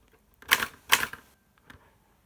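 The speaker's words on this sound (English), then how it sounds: "the sound of the key is something like this, and so, of course, it's quite loud" Typewriter keys struck loudly on an unnamed machine, three sharp clacks at an uneven pace, with the third lighter, close by and alone.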